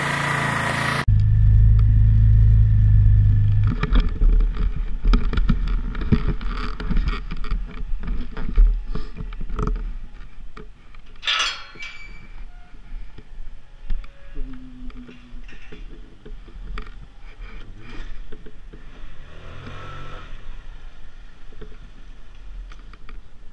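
Motor scooter ride recorded on a helmet camera, with a steady engine drone and wind rush lasting throughout at close range and no talking.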